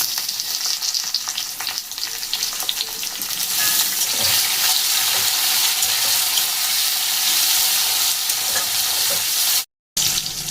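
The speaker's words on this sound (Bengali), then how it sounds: "পেঁয়াজ আমার ভাজা হয়ে গেছে, এখন দিয়ে দেবো টমেটো।" Steady oil sizzle of onions frying in a pan, with occasional stirring scrapes and a brief dropout near the end; no talking.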